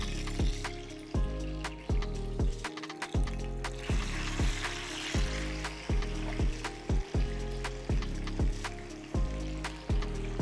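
Tilapia fish frying in soybean oil, Kerala style, with a steady sizzle and crackle under regular, rhythmic knocking sounds, close and fairly loud with no talking.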